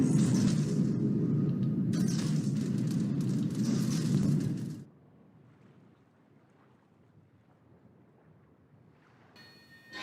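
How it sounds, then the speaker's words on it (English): An enemy battleship explodes in a naval video game with a loud, sustained roaring rumble lasting several seconds, then cutting off abruptly to a faint, quiet background. "Enemy battleship destroyed."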